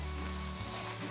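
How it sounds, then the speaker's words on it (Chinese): Yellow-heart cabbage stir-fries in lard, making a dense, even sizzle that runs unbroken and fairly soft throughout. "快速翻炒"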